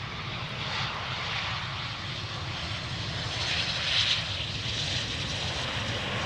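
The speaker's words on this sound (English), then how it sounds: "Embraer 190 arriving from London City." Embraer 190 jet arriving at Amsterdam Schiphol Airport from London City, a steady broad engine roar, moderately distant and fairly even throughout, with no talk.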